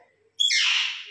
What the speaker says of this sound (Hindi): ये हमारी मैना बात करती है, बोलती है।